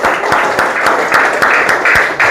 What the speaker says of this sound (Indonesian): Oke, kasih tepuk tangan untuk kelompok 5.